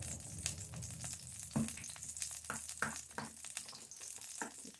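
Cornmeal hoe cakes cook in boiling water in a pan, giving a continuous hissing sizzle with bubbling and light scraping stirs throughout. It sounds close and steady, with no talking.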